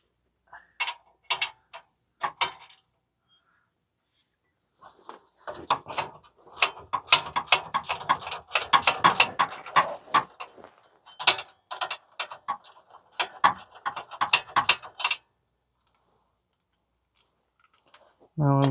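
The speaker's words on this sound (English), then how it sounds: "Just trying to loosen the nut to get it out." Ratchet wrench loosening a nut on the front exhaust pipe of a 2015 Toyota Sienna AWD 3.5 V6, with bursts of rapid close clicking separated by short pauses and a brief voice at the end.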